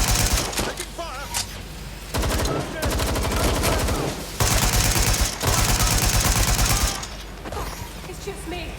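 Dense bursts of automatic gunfire roar through a Watch Dogs Legion firefight, loud and nearly continuous in rapid rattling volleys with brief lulls, mixed with faint shouted voices in the background.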